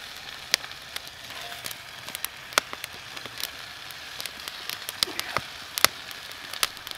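Stir fry sizzling in a pan on a Bush Box XL stove, a steady crackling hiss punctuated by frequent sharp pops and spits of hot oil.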